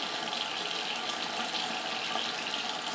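A generous splash of liquid is poured into a container of aquarium test water, giving a steady, close pouring and gushing sound with no talk.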